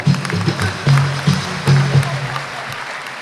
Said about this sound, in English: I think we should clap for her more than we have done.